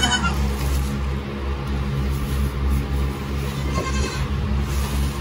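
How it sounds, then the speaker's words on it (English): Newborn Nigerian Dwarf goat kid bleating, thin wavering cries rising over a low steady hum, near and fairly loud, one clearer bleat standing out toward the end. "Is that that little goat?"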